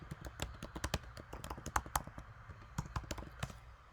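Rapid, uneven clicking of keys on a computer keyboard being typed on, close and fairly quiet, with short bursts and brief pauses and no voices.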